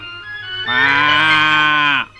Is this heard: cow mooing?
yes